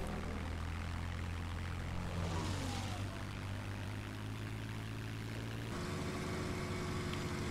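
Propeller airplanes in a World War II-style multiplayer combat game drone steadily and loudly throughout, engine pitch bending as aircraft pass close, with a shift to a different engine tone near the end.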